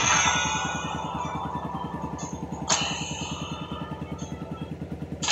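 A motorcycle engine idles while warming up, a steady close putter with even pulses and occasional clattering ticks, running alone without any voices.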